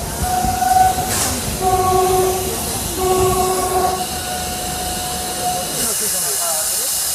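Passenger train running past with a loud rumbling, hissing roll, its horn sounding in several sustained tonal blasts over the first four seconds, with faint voices in the background.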